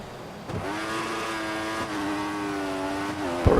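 Formula One car engine in the F1 2014 video game, a high, steady whining drone held at a constant pitch during a qualifying run, with a small dip in revs and a sharp knock at the end.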